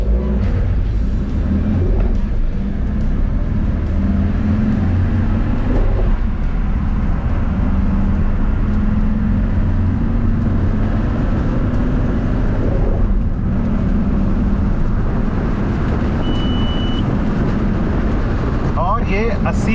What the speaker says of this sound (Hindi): चौथे गियर के अंदर भी गाड़ी आराम से 80 की स्पीड पर पहुंच जाती है